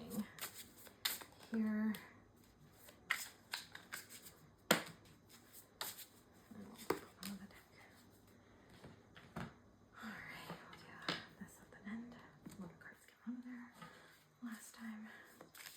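Tarot cards are shuffled in soft, irregular bursts of riffling and tapping, close and quiet, with whispered talk between the shuffles.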